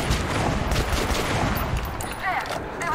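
Dense, continuous rapid gunfire from Metro: Last Light, loud and sustained with overlapping shots and a steady rattling roar throughout.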